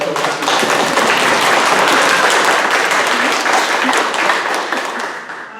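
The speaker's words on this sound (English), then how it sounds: "So let's give a round of applause, please, for Brenda Ruiz" An in-person Sacramento Food Policy Council audience applauds speaker Brenda Ruiz, loud, dense clapping that swells quickly, holds steady, and fades slightly toward the end.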